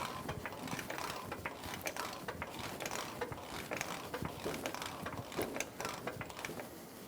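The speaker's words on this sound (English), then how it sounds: "We're going to use a jack under the lower ball joint and jack up the knuckle." Steady mechanical ratcheting and clicking of a jack being pumped under the lower ball joint to raise the suspension knuckle on a 2014-2018 Chevrolet Silverado 1500, close and continuous with no talk.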